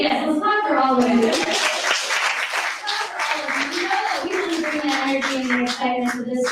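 An audience applauds startups at an award ceremony, with steady clapping that carries on throughout while a voice speaks over it.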